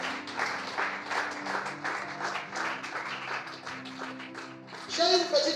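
Applause and cheering from a church congregation hold steady in a dense wash of clapping that swells briefly toward the end, with voices mixed into the crowd noise.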